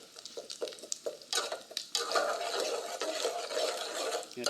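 Something frying in mustard oil is stirred in the pan, giving scraping clatters and irregular sizzling bursts that grow into a steady, close crackle.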